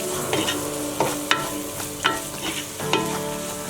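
Masala for boneless chicken dum biryani sizzling in a pan while being sauteed, with repeated scraping stirs of a spoon roughly every half second over a steady frying hiss, close and fairly loud.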